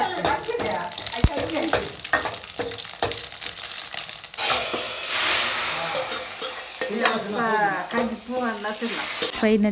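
A seasoning tempering sizzles hard in a pan for a colocasia curry, with crackling spluttering and sharp metallic stirring clicks and scrapes up close. Brief bits of voice come through now and then.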